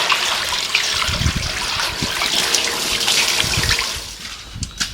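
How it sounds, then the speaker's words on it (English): Clean water poured from a bucket to rinse a flat top grill after mould removal, a steady splashing wash of liquid running continuously across the surface and fading near the end. "with a bucket of just clean water, try and rinse this off as much as possible"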